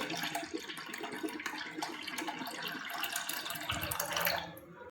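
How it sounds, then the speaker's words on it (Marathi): A glass of cold water poured into a raw mango panha mixture, a steady splashing gush lasting several seconds, rising slightly at the end before stopping abruptly. "यात अंदाजे थंडगार 1 ग्लास पाणी घालून घेऊ"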